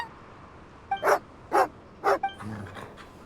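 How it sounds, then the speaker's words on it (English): A dog barks three times in Genshin Impact, loud, evenly spaced sharp barks, followed by a softer whimpering yelp alone. "Odette mentioned that he was getting a few dogs to guard the place. Could this be one of them?"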